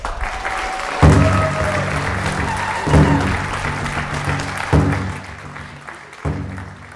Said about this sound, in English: we will have one more round of applause for our graduates